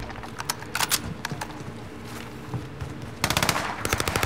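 Bursts of automatic gunfire in a Call of Duty video game, sharp repeated shots scattered across the clip, building into a louder, denser volley near the end.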